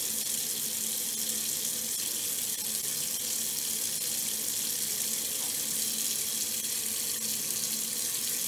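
Tap water runs steadily into a kitchen sink, filling both sides of a double basin, a continuous close hiss and gush with no talk over it.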